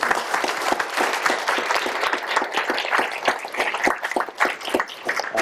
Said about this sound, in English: Please join me in a round of applause for Christine.